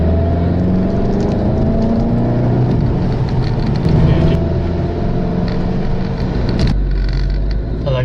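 A VW Golf GTI engine in sport mode gives a continuous grunty drone from inside the car, holding steady for several seconds before a brief shift near the end.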